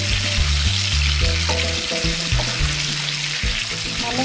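Pieces of pointed gourd fry in hot oil, giving a loud, continuous close sizzle with steady crackle throughout and no talk.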